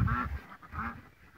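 Farmyard ducks quacking in two loud, close bursts of raspy calls with a short pause between them, with no talk over them.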